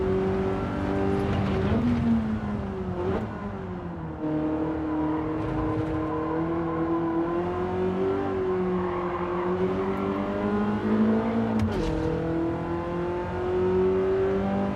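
A BMW race car in Gran Turismo 7 holds a steady, loud engine drone with pitch rising and falling through gear shifts, heard continuously from the cockpit with no talking.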